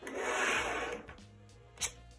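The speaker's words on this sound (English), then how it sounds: "And then I will get sanding." Close, raspy rubbing of sandpaper on a hard 3D-printed plastic prop knife for about a second, then quieter brief scuffs.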